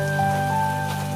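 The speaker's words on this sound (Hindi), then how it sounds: "छत से पानी टपकने लगा है" Rain falling through an old leaking roof, with water dripping inside a village home; a steady, close patter of drops runs evenly through the whole short stretch with no voices.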